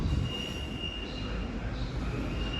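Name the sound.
Great Western Railway train arriving, wheels squealing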